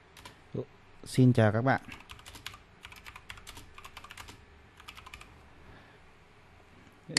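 Typing on a computer keyboard in Vietnamese, a quick series of light key clicks following a short spoken greeting, close and fairly quiet, with a brief burst of louder taps near the end.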